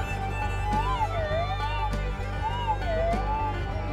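A metal detector gives a sustained warbling tone that rises and falls in repeated sweeps over a buried gold or lead target, sounding steadily against a low hum.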